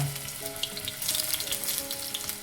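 Brinjal pieces hit hot oil in a pan and set off a close, loud, crackling sizzle over a low humming background, with the spitting growing denser and brighter partway through.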